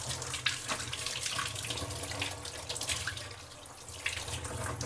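Tap water running steadily into a kitchen sink while tomatoes, lemons, chillies, ginger and herbs are washed, a continuous close splash with small bursts as items pass under the stream.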